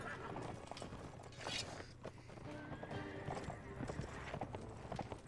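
Cavalry horses in the video game Mount & Blade gallop with a busy clatter of hooves, mixed with whinnies and battle noise. The sound is faint and continuous.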